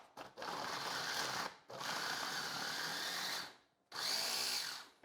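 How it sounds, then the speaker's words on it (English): Food processor blending frozen fruit into dairy-free nice cream, a loud whirring motor grind in three bursts separated by short pauses, close and harsh. "we're just gonna blend it up"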